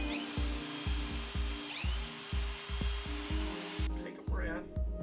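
A high-pitched power drill whirs steadily while repeated low thumps of the bit biting into wooden bed boards pulse underneath, ending with a brief pause.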